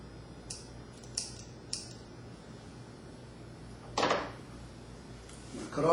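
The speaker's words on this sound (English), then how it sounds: "And now I'm going to cut off the trim wrap thread." Scissors snip trim wrap thread on a fishing rod wrapper, several short close clicks spaced apart, followed by a louder rustle and a final snip.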